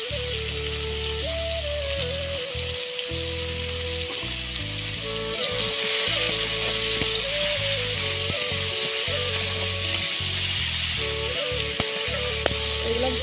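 Spices, salt and turmeric sizzle steadily in hot oil with pumpkin for a vegetarian pumpkin curry, a continuous crackling fry that swells louder midway, with soft music-like tones underneath.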